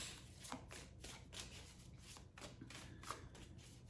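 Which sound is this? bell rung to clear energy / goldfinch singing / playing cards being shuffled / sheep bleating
playing cards being shuffled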